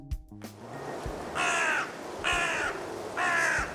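Thousands of crows roosting in the city of Troy, New York, with three loud, evenly spaced bursts of harsh cawing rising over a low background hum.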